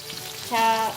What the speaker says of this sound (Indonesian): Apalagi ketika kita menggoreng, menumis ini ya, cabai.